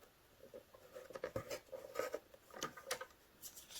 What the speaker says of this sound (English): cut that piece out of my paper